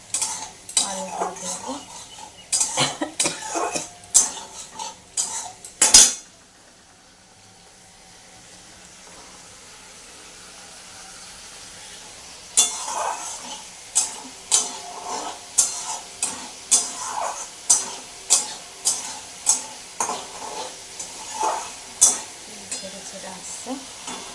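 Masala for a singi and magur fish curry is being sautéed in a pan: a run of sharp spoon scrapes and clinks against metal over a soft sizzle, then a quiet stretch, then steady rhythmic stirring strokes again.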